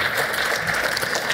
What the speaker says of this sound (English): So a round of applause for Deb.